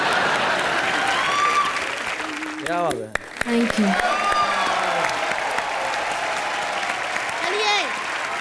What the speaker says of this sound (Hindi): तालियां तालियां तालियां